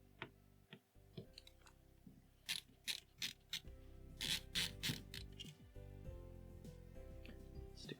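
Screwdriver removing the side screws from a Nintendo 64 console during a teardown: quiet, close ratchet-like clicks and grinding turns in a run of short bursts, then steadier rubbing, alone without talk.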